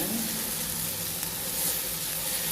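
Eggplant omelette made with two eggs and two eggplants fries in a pan, giving a loud, dense, continuous sizzle up close with no talk.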